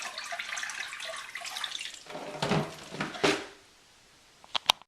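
Water pours from a hydroponic bubble box into a sink as it drains, a broad rushing flow that runs for several seconds, then stops, followed by a couple of sharp knocks at the end.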